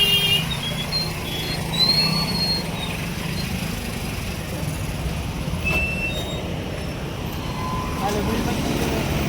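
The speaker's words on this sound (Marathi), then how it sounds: "ट्रॅफिक काय अशी ट्रॅफिक असते का रे?" Steady road traffic rumbles through a street in Pune near Waghjai Nagar, a continuous drone of engines and passing vehicles with faint higher tones over it, while people talk nearby.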